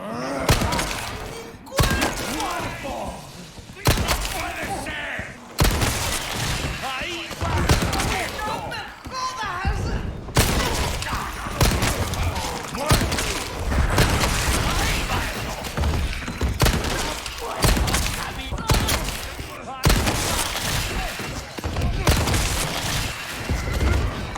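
Gunfire in Resident Evil 4 Remake strikes enemies as repeated heavy gunshots and thuds over long stretches of combat, with a person talking throughout and in-game noise between shots.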